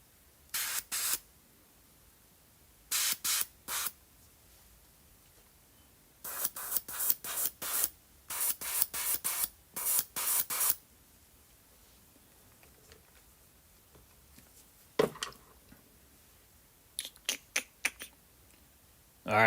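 An airbrush sprays paint onto scale models in short hissing bursts, some single and some in rapid clusters, with quiet pauses between, and no talking.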